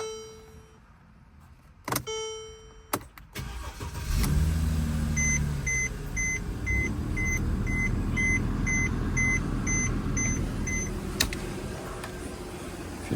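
A Mercedes C-Class remote key locks the car, giving a run of short, regular electronic beeps over a steady idling engine hum, preceded by a few sharp clicks and thumps.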